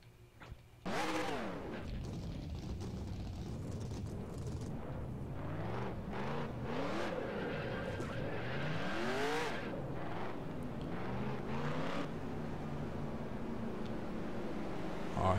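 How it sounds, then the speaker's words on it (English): Race car engines firing up together in NASCAR Racing 2003, a sudden loud ignition followed by a sustained roaring field of idling and revving motors with rising and falling pitch sweeps. "Drivers, start your engines."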